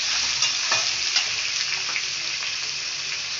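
Onions and curry leaves stirred as they fry in oil for a potato masala to go with poori, giving a steady close sizzle with a few scraping stirs and no talk.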